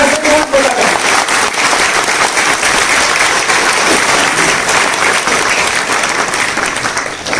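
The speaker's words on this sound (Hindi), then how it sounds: "उन सब के लिए एक जोरदार ताली" Loud, full applause from a seminar audience in an LIC insurance training session, a thick continuous roar of many hands clapping close by that carries on for about seven seconds without speech.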